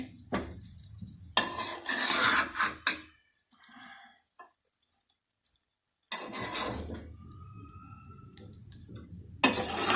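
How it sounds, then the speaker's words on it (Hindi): Chicken vegetable fried rice stirred in a pot: a few bursts of scraping and clinking separated by quiet gaps, fairly close and moderately loud, with no talking. "थोड़ा सा मिक्स कर लूँ।"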